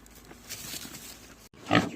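Farm pigs grunt close by during evening feeding of pumpkins, a series of low snuffling grunts followed by a louder, sharper squealing grunt after a brief pause.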